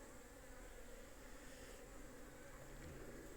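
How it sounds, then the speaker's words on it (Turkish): Honeybees hum at the entrance of a hive in winter, a soft continuous drone of a few wings close by, steady and low in level with no voices over it. "Böyle arı sesleri insana huzur veriyor"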